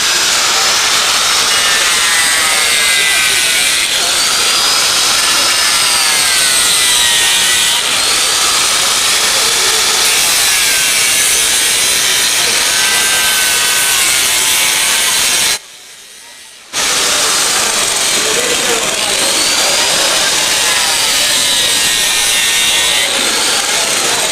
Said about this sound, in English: I'll use a tool here, this grinder.